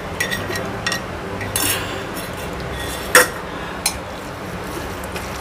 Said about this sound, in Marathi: आणि हा व्यवस्थित भात सगळा आपण ढवळून घ्या.